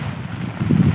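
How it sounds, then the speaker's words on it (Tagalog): Typhoon Ulysses gale battering the open air with heavy rain, a steady low roar of wind buffeting the microphone that swells louder toward the end, with no talk. "Ang lakas ng ulan. At hangin."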